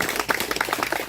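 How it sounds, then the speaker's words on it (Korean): Brief, close applause from a small outdoor memorial gathering, with individual claps distinct and uneven, fairly quiet and short-lived. "장성훈 선생님에게 다시 한번 큰 박수 주시고요"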